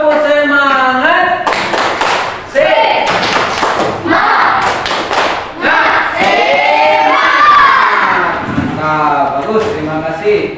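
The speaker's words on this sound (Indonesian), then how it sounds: "Ayo, tepuk semangat." A school class performs a rhythmic clapping chant together, with loud group claps and thumps mixed with children's voices chanting in unison and shouting, close and energetic throughout.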